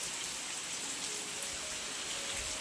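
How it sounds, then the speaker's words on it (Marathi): Heavy monsoon rain pours down outside a village home, a dense, steady hiss of falling drops with no talking, faint but unbroken throughout. "काय पाऊस पडतोय बघा,"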